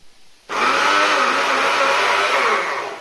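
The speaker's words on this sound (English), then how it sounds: "I'll grind all the cloves of garlic and ginger into a paste" An electric grinder whirs loudly and steadily as it blends garlic cloves and ginger into a paste, starting abruptly and running at a constant high-pitched drone for a few seconds.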